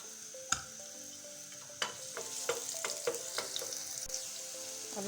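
Ginger garlic paste frying in hot ghee, a soft close sizzle broken by several sharp clinks and scrapes of a spoon against the pan.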